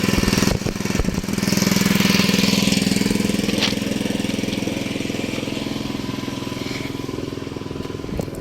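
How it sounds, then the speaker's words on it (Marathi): A hole drilling machine engine runs on the Nagar–Beed–Parli railway project site, a loud steady rapid chugging drone that holds throughout with a sharp knock near the start and no talk. "हे छिद्र करण्याची मशीन आहे"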